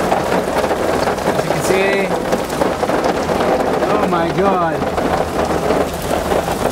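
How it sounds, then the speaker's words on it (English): Torrential rain pounds on a vehicle near Kamloops in a steady, loud, dense roar. People talk over it at moments. "the beautiful weather has changed into torrential rain."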